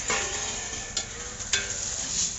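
Sliced onions fry in a hot pan with a steady, close sizzle, broken by a couple of brief scraping stirs and no voices.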